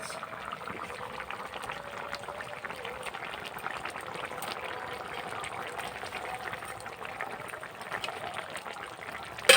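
Fish curry in a poppy seed gravy simmering in a pan, a steady low bubbling hiss that runs evenly throughout, with a brief louder knock at the very end.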